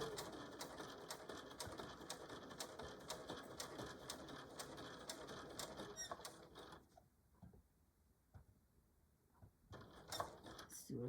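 A sewing machine stitches a cell phone pouch made from jeans with gold thread, a fast rattling run of needle strokes that stops briefly before starting again, up close.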